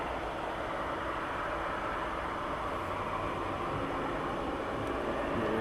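Airliner taxiing onto its parking stand at East Midlands Airport at night, a steady broadband jet engine roar holding at a constant level throughout with no other sounds.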